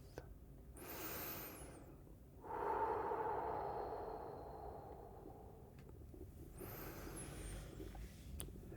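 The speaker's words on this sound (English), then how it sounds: "listen to the sound of your breath" Slow relaxed human breathing, close and soft, with long airy inhales and exhales in a gentle repeating rhythm, alone without speech.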